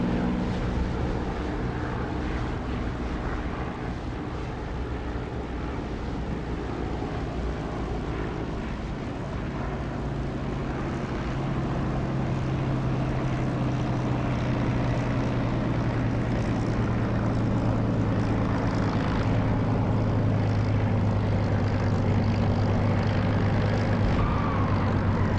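A fixed-wing aircraft in the DCS flight simulator with gear down on final approach to land, its engine drone steady and loud throughout, a low tone rising and brightening toward the end.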